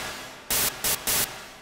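Synthesized noise made by frequency modulation in FL Studio: three loud bursts of bright hiss, each switching on and off abruptly, separated by short gaps with a faint noise floor.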